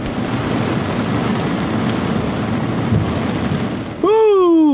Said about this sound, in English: Another storm's chasing me off the lake.